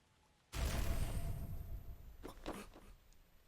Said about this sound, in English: That rain just feels so real